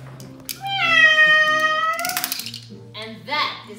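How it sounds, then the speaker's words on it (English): A pet cat gives a long, drawn-out meow close to the microphone, then a couple of shorter chirping meows follow, with a person speaking quietly in between. "And that is my cat, Mia."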